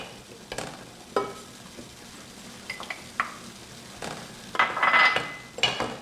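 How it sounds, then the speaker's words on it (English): Ghee melting in a pan, a soft sizzle broken by close spoon scrapes and clinks against the metal, with a louder burst of crackling near the end and no voices. "So I'm going to add the ghee to the pan and I'm going to let that melt down."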